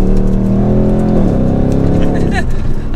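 A Ford Mustang Dark Horse muscle car revving and accelerating hard, its engine note sweeping upward loud and close from inside the cabin, with a voice speaking over it.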